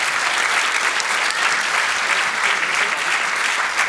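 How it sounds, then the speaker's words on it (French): A crowd at an awards gala applauds steadily and loudly, dense clapping that holds an even level throughout without a break. "Encore une bonne applaudissement pour Patrice."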